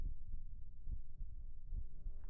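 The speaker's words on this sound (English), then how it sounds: "I hear heartbeats." A low, muffled heartbeat thumps steadily at a moderate pace as an anime sound effect, dull and close, with a faint hum underneath.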